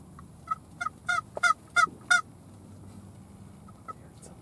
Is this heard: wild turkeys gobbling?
yes